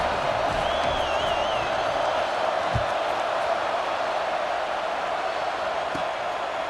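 Stadium crowd in EA Sports College Football 26, a steady broad roar of massed voices with a faint whistle and an occasional thud, continuous throughout.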